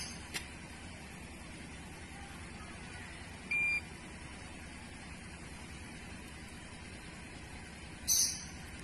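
A scan tool powering up while connected to a Honda Mobilio with the ignition on and the engine off gives two short electronic beeps, one near the middle and one at the end, over a quiet background.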